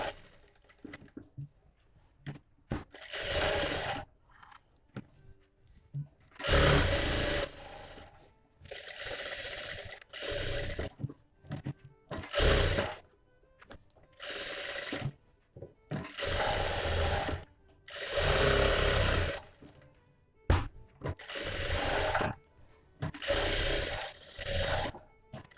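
A sewing machine stitches the lining of a princess-cut blouse in loud bursts of rapid mechanical whirring, separated by short pauses and quieter handling noises, all close by and without speech.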